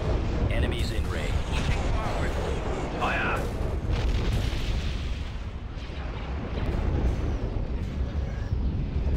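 Heavy weapons fire and booming blasts from a Star Wars Empire campaign space battle game, dense and continuous through the whole stretch, with voices talking over the barrage.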